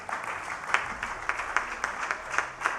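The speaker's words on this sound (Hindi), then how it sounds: "तो तालियां प्लीज़ इनके लिए।" An audience claps for a cricket team captain, with a fairly faint, steady patter of applause and a few more distinct claps, no voices over it.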